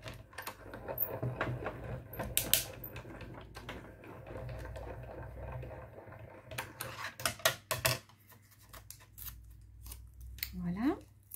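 A die-cutting machine being hand-cranked to cut paper hearts, its mechanism giving a run of irregular clicks and rattling knocks over a low steady hum, fairly close and moderately loud.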